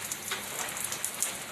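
Rain falls during outdoor house painting, a soft steady patter with faint scattered drip ticks, quiet and continuous with no voices.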